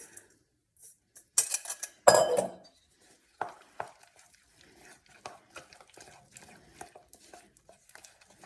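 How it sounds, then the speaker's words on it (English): A spoon scrapes and clinks against a bowl while dried fruit is stirred into melted chocolate, giving several sharp knocks and then a run of soft, irregular scraping taps, close by. "I'm going to stir the dried fruit"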